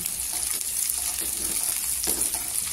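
Soft, continuous sizzling of kartoli (spiny gourd) and green chillies frying in oil, with a few faint clinks and stirring scrapes.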